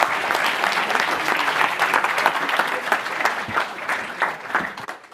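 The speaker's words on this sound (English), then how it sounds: "Another round of applause" Sustained applause from a conference audience at a web technology event, dense steady clapping that holds for several seconds and tapers slightly at the end.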